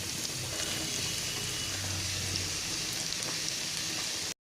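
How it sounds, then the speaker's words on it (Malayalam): Chopped onion, ginger, green chilli and curry leaves sizzle in hot coconut oil for a Kerala-style squid roast, giving a steady, close crackling hiss that runs evenly until it cuts off abruptly at the end. "ആ വെളിച്ചെണ്ണ ചൂടായി വരുമ്പോഴേക്കും അതിലേക്ക് നമ്മൾ നേരത്തെ അരിഞ്ഞു വെച്ചിട്ടുള്ള സവോള, ഇഞ്ചി, പച്ചമുളക്, കറിവേപ്പില ഇട്ട് കൊടുക്കാം."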